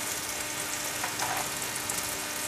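Garlic paste frying in a pan for soybean tikka curry, giving a steady, close sizzle that holds even for the whole stretch with no voices over it.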